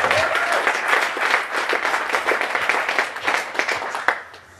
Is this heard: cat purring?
no